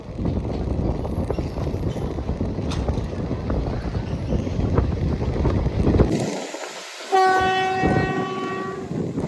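A Shoranur–Coimbatore passenger train runs through a curving Western Ghats stretch with a steady rolling rumble, then sounds a loud, sustained multi-tone horn near the end.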